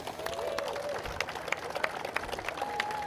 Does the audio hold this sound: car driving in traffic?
no